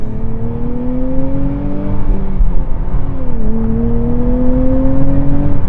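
A 2023 Nissan Z manual sports car accelerating hard from inside the cabin: loud engine revs climbing in pitch, a brief dip at a gear shift, then climbing again over steady road rumble.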